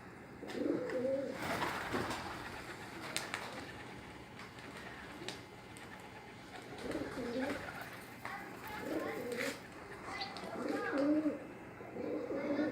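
Kurgan play pigeons coo softly in repeated throaty phrases in Dushanbe, several birds nearby, with light outdoor ambience and occasional faint chirps in the background.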